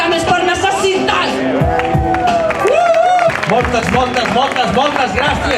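Crowd at an outdoor rally in Barcelona clapping and cheering loudly and steadily, with babble and a shouting voice rising through the applause.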